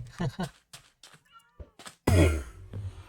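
Cats meowing in the video game Minecraft, several short, close meows in a row, then a louder burst of sound near the end, with a voice speaking in between.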